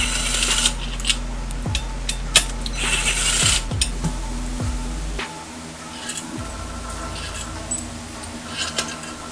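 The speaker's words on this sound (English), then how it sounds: "Pull the flywheel off." A ratchet clicks in several quick bursts while the flywheel is taken off a K24 race engine being built for a turbocharged AWD CRX, with close, fairly loud metallic ratcheting and workshop clatter.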